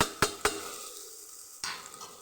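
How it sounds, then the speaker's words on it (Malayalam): Gravy masala being stirred into an egg curry pan, with a few sharp scrapes of the spoon followed by a soft steady sizzle, close and quiet, with no voices. "ഇനി നമുക്ക് ഗ്രേവി മസാല ചേർക്കാം"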